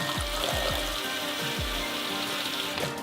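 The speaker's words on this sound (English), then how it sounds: "so I'm going to run some cold water through first," Cold tap water running through a hookah for cleaning, a close splashing, sizzling stream with several low gurgling glugs rising through the vessel.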